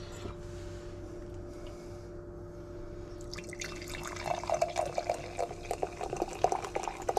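A bottle of second-ferment kombucha is opened over a sink, giving a faint hiss followed by soft, irregular fizzing and bubbling pops that grow busier over several seconds.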